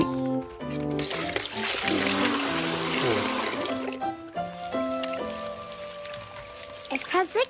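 In a cartoon, water is poured out and seeps into the ground. Splashy, gurgling pouring runs for a few seconds over playful tonal music, then trails off into trickles.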